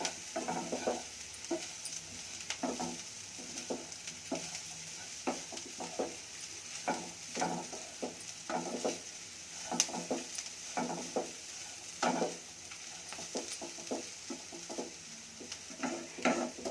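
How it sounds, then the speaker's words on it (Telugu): Vangi bath with eggplant being stirred in a pan after cinnamon-clove powder goes in, a quiet low sizzle broken by regular scraping strokes of a spoon against the pan, with no voices. "చెక్క లవంగం పౌడర్ వేసి ఇంకొకసారి తిప్పాలి"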